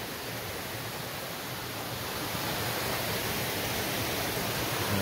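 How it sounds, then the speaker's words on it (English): A waterfall cascading down a creek along the Appalachian Trail in Maine, a steady, dense broadband rush of falling water heard up close, unbroken and even throughout with no voices. "Beautiful cascade."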